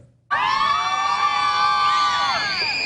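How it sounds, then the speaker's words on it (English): Parents, family and friends in a high school graduation crowd break into loud, sustained cheering and whooping that starts abruptly and carries on without pause. "as you can tell, there's a lot of excited parents, family, friends here in the crowd"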